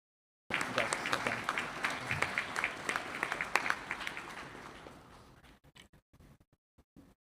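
Audience applause at a police department awards ceremony, a burst of crisp clapping from a seated crowd that starts abruptly, holds for a few seconds, then thins out into scattered final claps.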